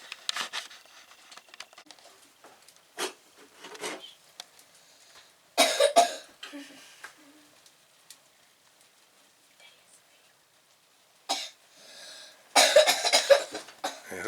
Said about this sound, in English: Who's over there coughing up a storm?